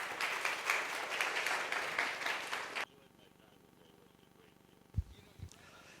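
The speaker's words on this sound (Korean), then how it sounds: "우리 박수로 한번 맞이해 주실까요?" Crowd applause fills a church service as a pastor is welcomed, steady and dense for about three seconds before cutting off to a quiet room with a couple of soft thumps.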